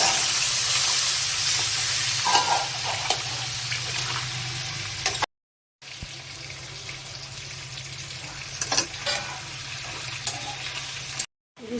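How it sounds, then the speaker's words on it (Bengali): Hilsa fish spice paste in a pan sizzles and hisses steadily after water is poured in, a dense bubbling simmer with soft stirring clatter, broken by two brief silent gaps. "ইলিশ মাছের মশলাটা আমার হয়ে গেছে। এবার আমি জল দিয়ে দেবো।"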